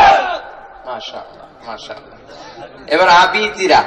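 A crowd at a Bangla religious lecture bursts into a loud group shout of the takbir response "Allahu Akbar" near the end, following a man's spoken lead-in.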